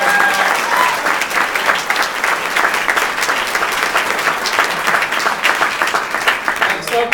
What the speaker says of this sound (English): Give him a round of applause for working so hard.